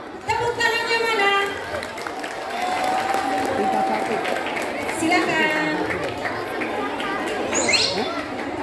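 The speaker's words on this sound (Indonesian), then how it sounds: "Tepuk tangannya mana?" Children in a school audience applaud and cheer after an ant dance performance during a school visit event, with broad clapping and excited young voices mixed throughout, and an adult voice speaking over the crowd.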